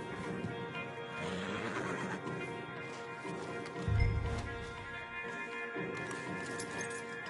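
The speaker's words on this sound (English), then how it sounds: "Marston, you're gonna tether him up to Javier's horse" A horse whinnies amid Red Dead Redemption 2 game ambience and a low hum, with a short thudding bump in the middle and no clear speech.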